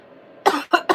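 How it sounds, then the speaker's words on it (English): Three sharp coughs in quick succession, loud and close, following a brief quiet moment. "There's no reason for me to be coughing like that."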